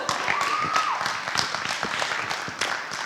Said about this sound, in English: Another applause for Destiny.